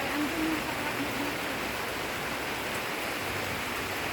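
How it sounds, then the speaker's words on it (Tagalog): Heavy rain pouring down outdoors, a dense, constant hiss of drops on surfaces that stays loud and steady throughout without a break. "Grabe naman tong ulan na to. Lumakas pa lalo."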